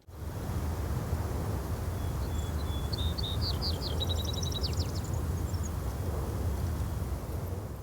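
Soft birdsong chirps drift over a steady bed of wind and distant insect hiss, a continuous ambient layer with the birds faint and set back.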